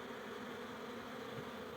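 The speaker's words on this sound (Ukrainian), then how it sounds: "Бджоли якраз у них обльот." A dense, continuous buzz of many bees flying around hives at an apiary during their cleansing flight, a steady droning swarm close by with no other sounds.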